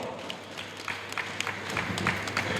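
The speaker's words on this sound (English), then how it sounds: "A round of applause." Audience applause at the 10th anniversary event of the Offa Development Union's medical outreach, a steady wash of scattered clapping from a crowd, moderately loud and continuous, with a low hum underneath.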